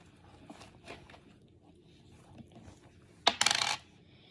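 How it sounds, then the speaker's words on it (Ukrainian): Loose coins being emptied out of a belt bag tumble and clatter in a short, bright jingling burst near the end, after a stretch of quiet rustling. "Монеты."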